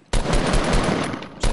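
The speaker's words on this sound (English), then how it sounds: "This guy's trying to shoot me now." Rapid automatic gunfire in the video game Fortnite, a dense burst of shots lasting over a second, loud and close, then a brief pause and another short burst.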